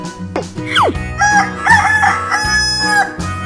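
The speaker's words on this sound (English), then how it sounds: "Chicken." A rooster crows loudly and close by in one long cock-a-doodle-doo with a rising then falling drawn-out call, with brief clucking and squawks around it and no talking.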